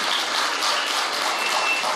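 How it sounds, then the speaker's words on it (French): An audience applauds speakers at the close of a workshop session, producing steady, dense clapping throughout with no voices standing out. "Eh bien, messieurs, je peux vous applaudir."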